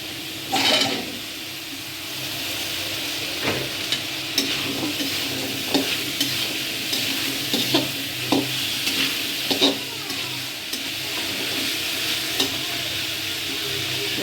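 Steady sizzling of taro and potatoes frying in a pan, with scraping and clinking as they are stirred, loud and close with no talking.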